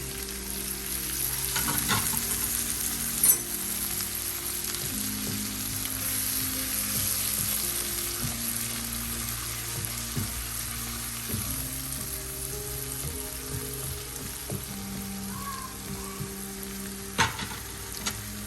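Tomato sizzles gently in a pan over low heat, a steady soft frying hiss with occasional small crackles and a stir or two, no voices.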